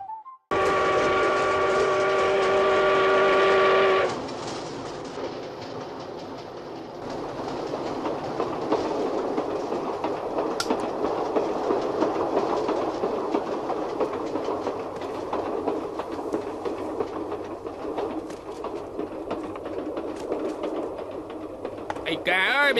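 A train opens with a loud, sustained whistle blast, then a steady rumble of wheels on rails rolls on with rhythmic clatter at moderate distance, dense and continuous for the rest of the stretch.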